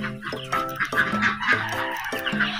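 Chickens cluck repeatedly close by, a run of short, throaty calls with a higher squawk cutting in now and then.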